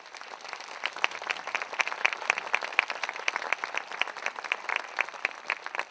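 A hall audience at a Ciprian Porumbescu commemoration applauds the actor Vlad Rădescu with brisk, crisp clapping that holds steady throughout, many hands close together and a few claps sharper than the rest.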